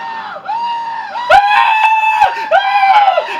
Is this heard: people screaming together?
yes